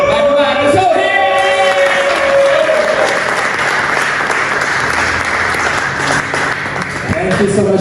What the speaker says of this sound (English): can I please hear a huge round of applause from Vincent Ballu